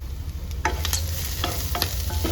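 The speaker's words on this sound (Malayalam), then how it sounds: "ഇതിങ്ങനെ പൊട്ടിത്തെറിക്കുന്നുണ്ട് കേട്ടോ, അതുകൊണ്ട് ശ്രദ്ധിക്കണം" Sliced onion and green chilli roast in hot oil, giving a steady close sizzle broken by sharp spattering pops and crackles.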